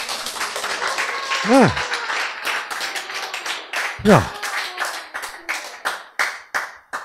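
A lecture audience breaks into brisk applause, scattered claps building into quick rhythmic bursts, while the speaker talks over it with short exclamations and a couple of rising vocal slides.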